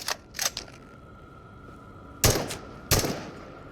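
Two sharp gunshots ring out in the video game Into the Radius, each a loud crack with a short tail, about a second apart, after a few softer metallic clicks and a faint steady hum.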